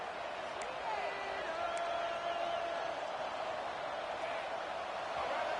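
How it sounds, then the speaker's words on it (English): Steady roar of a packed stadium crowd at a college football game between Florida and Texas A&M, a dense continuous wash of voices with scattered whistles and shouts, loud and unbroken throughout. "And wow, listen to this crowd noise."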